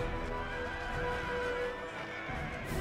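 Cavalry horses in the Empire: Total War battle game give loud, clear neighs and whinnies over a bed of hoofbeats and battle din. The short burst is close and stands alone without talk.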